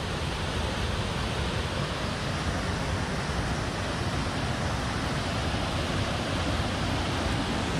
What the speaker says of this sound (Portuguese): Aqui é a cachoeira do Cuscuzeiro.